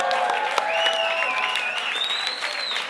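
Crowd at a b-boy breaking event applauding and cheering, dense steady clapping with whistles and shouts rising over it, continuous and fairly loud throughout.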